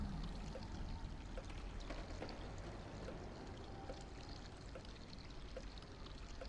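Water in the robot adventure game Machinarium pours and streams continuously, a soft, even splashing rush with scattered small drips and gurgles throughout, fairly quiet and without voices.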